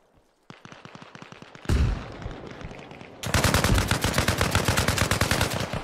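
Bursts of automatic gunfire in Arma Reforger, first a lighter rapid stream, then a loud blast, then heavy sustained full-auto fire close by, with no talk over it.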